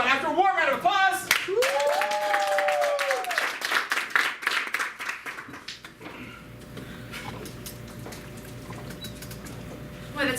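Improv theater audience breaks into a warm round of applause, a dense burst of clapping that swells then fades into background murmur, with voices talking near the start.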